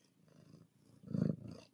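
A tiny cat purrs close up in two soft rumbling pulses, the second louder, faint and brief with no talking over it.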